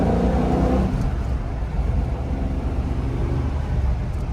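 A 1967 Shelby GT350 with a 289 HiPo V8 and four-speed runs with a deep, steady rumble that swells briefly before settling into an even drone, loud and close.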